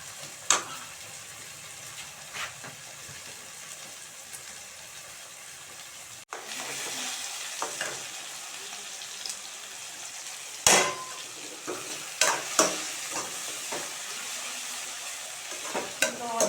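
Onions sizzling as they fry in a pan on a village kitchen stove, a steady hiss with scattered stirring scrapes and clinks from a spoon against the pan.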